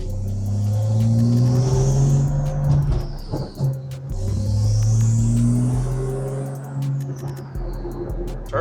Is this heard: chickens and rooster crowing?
no